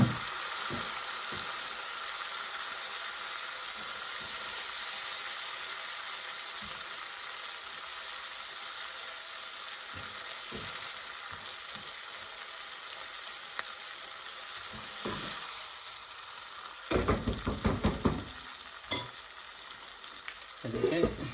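Masala sizzles and fries in a pan just after a little water is added for a BIR-style precooked chicken, with a steady close crackle throughout and a few louder bursts of spatter and stirring near the end.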